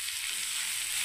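Boiled soybeans hit a hot pan for a soybean paratha filling, and a steady, close sizzle fills the brief moment without pause.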